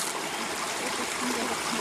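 Water flowing across a road and carrying sediment downstream at a site with Clean Water Act violations gives a steady, broadband rushing wash like a stream, continuous and fairly close, with no talking.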